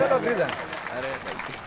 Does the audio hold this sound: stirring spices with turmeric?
no